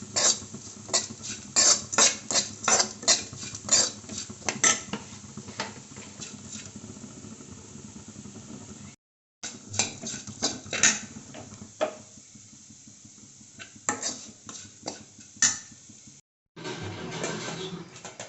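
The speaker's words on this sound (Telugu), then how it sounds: "ఇప్పుడైతే బాగా మొత్తం కలిసికట్టు అయితే కలుపుతున్నాను" A spoon stirs carrot curry with chili powder in a pan, producing rhythmic close scraping taps and clinks in a steady series that thins out, broken by two brief silent gaps.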